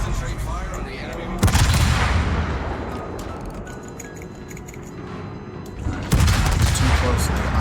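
Naval gunfire from the heavy cruiser Des Moines in World of Warships sounds as loud, rolling salvos of booming shots with thunderous low rumble. A fresh volley erupts near the start, and another strikes near the end.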